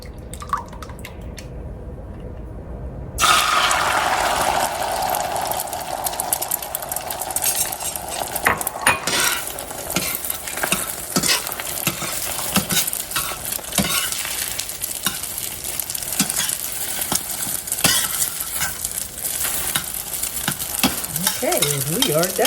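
Eggs sizzle and fry in a pan on a stovetop while a utensil stirs and scrapes through them, a steady close crackle with frequent clicks of metal on the pan, starting after a few seconds of near silence.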